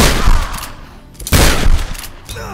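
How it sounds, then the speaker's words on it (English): Loud shotgun blasts in the Tomb Raider video game: a few heavy, close booming shots in quick succession, each one a broad burst that decays briefly, with little talk underneath. "that guy took three direct shotgun blasts"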